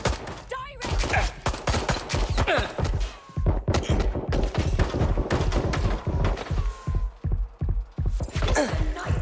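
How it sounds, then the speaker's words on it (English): Gunfire in the video game Watch Dogs Legion comes as dense, rapid bursts of shots that crack close and loud one after another, with brief gaps between volleys. "I'm getting shot at here!"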